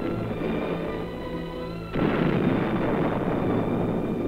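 Bombs bursting during early-1920s bombing tests on battleships, a rumbling roar that surges suddenly louder midway, heard in old archival film audio with a muffled, distant quality.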